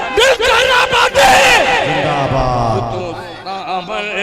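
At a devotional poetry gathering in Uttar Pradesh, a large crowd roars a loud collective chant in reply to a call, the voices surging together and then fading into a sustained hum.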